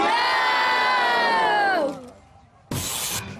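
A crowd at a medieval-style outdoor archery competition gives a loud, sustained group shout that fades out, followed after a short pause by a sudden burst of broad cheering noise.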